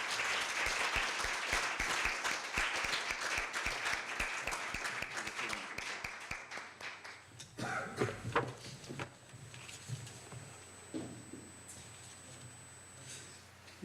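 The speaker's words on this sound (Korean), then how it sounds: "큰 박수로 맞이해 주시기 바랍니다" An audience at a Korea University evening event applauds loudly as a professor is welcomed, steady dense clapping for several seconds that thins into scattered claps and fades toward the end.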